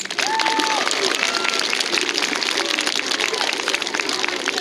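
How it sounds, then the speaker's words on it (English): Sustained, loud applause from a school audience of students and teachers, dense clapping filling the space with faint crowd murmur and a few voices mixed in. "One more round of applause, please."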